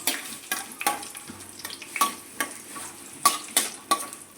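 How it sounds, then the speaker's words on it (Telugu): Peanuts fry in a pan for upma while a ladle stirs them, producing a soft sizzle broken by regular, close scraping and clinking strokes about every half second. "ఇట్లా కొంచెంసేపు పెట్టి నెక్స్ట్ మనమైతే గరిటతో మిక్స్ చేసుకోవాలి."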